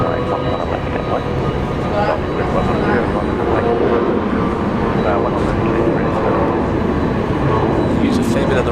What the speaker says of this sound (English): Use a fair bit of the runway, that's for sure. Took off full length for that.